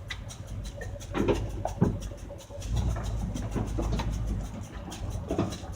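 A 1978 Ford F150 engine runs at a steady idle, a continuous low rumble with some uneven surges, close by, with no voices.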